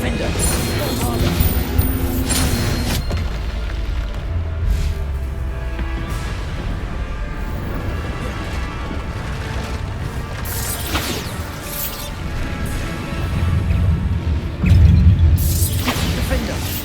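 Bombarda blasting spells fired repeatedly in the Hogwarts Legacy video game, loud crashing booms and whooshes over a dense, busy battle soundscape, with a heavier impact near the end.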